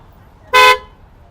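A newly installed horn on a Wagon R VXi CNG car gives one short, loud, bright honk, close by, against a quiet background.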